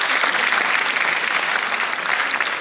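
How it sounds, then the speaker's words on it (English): Sustained audience applause fills a conference hall at an Indo-Japan international conference, a dense steady wash of clapping from many hands holding even loudness throughout. "Please give a huge round of applause for all of them."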